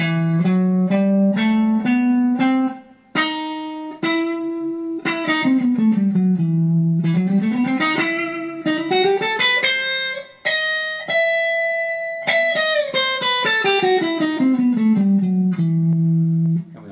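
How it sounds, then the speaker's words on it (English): A single guitar plays a harmonic minor scale up and down, one clear note after another at a steady, moderate pace, with a slightly effected tone and no talking. "So the harmonic minor sounds like this."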